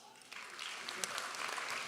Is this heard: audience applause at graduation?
yes